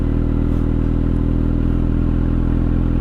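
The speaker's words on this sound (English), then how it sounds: "Now let me show you a little bit of throttle." Motorcycle engine running with a little throttle: a loud, close, steady low mechanical rumble with a rapid firing pulse that holds constant throughout, with no distinct rev rise, no talking.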